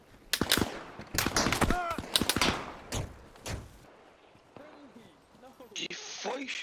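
Gunfire in the military video game Arma Reforger: several loud bursts of shots in the first few seconds, then quieter scattered sounds while people talk.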